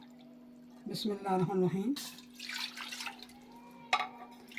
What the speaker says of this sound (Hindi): तो इसमें मैंने 2 कप पानी डालना है।